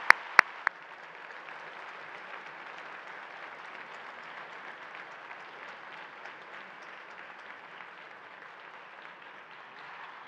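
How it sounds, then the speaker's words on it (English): An audience claps steadily for guests at a school honors day, a dense, even wash of applause holding for about ten seconds after a few sharp opening claps, with no voices above it. "I'd like to offer our gratitude and a round of applause for all of you guests who are with us here today"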